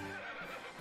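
A horse neighs in a video game, a loud, close whinny that fills nearly the whole short moment, tapering slightly toward the end with no talk over it.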